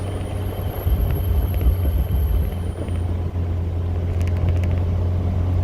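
A 1974 Alfa Romeo engine pulls in third gear at about 2,800 RPM and 30 mph, a steady, low, close rumble with road noise and a faint whine overhead.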